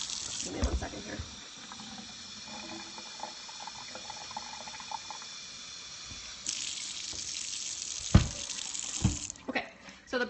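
Tap water runs and gushes into a water filtration system dispenser, a steady stream that shifts in tone partway through, with a few clunks and knocks near the end.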